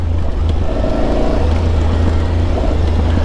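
Aprilia Tuareg 660 motorcycle engine droning steadily while riding offroad in the dirt, a loud continuous low rumble with wind rush over it, no talking.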